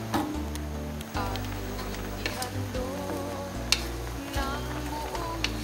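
Italian chicken sauce seasoned with fish sauce being stirred in a pan, with a steady low sizzle and soft scraping and ticking of the spoon throughout, close and moderately loud, no talking.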